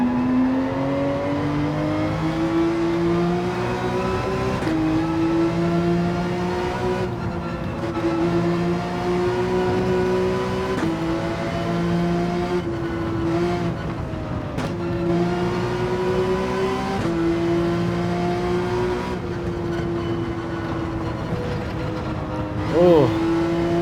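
Porsche GT3 race car at about 115 mph through the bends of a racing video game, engine droning loud and steady for the whole stretch with small pitch shifts as revs rise and fall, with a voice talking over it.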